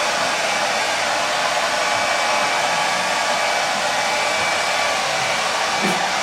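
Hairdryer blowing on painted trousers, a loud, steady close-up roar of rushing air that holds constant throughout with no talk.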